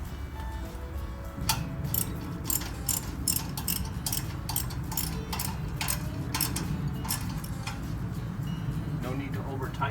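Rapid ratchet clicks sound up close as fasteners with washers are snugged down on a hitch-mounted Jeep kayak rack, a steady mechanical clatter running nearly the whole time.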